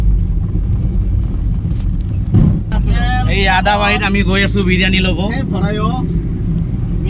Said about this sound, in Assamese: এই গাড়ী চলাই গৈ আছে।